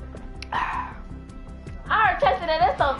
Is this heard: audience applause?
no